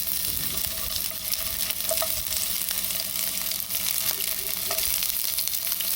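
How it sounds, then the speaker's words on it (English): Onions fry in a hot pot with a dense, steady sizzle and crackle close by, with faint stirring scrapes mixed in throughout. "I'm now going to be hitting this pot with my onions"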